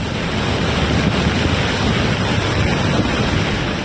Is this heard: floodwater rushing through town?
yes